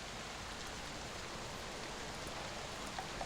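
Rain falls in a steady, soft hiss, faint and even throughout, with no voices over it.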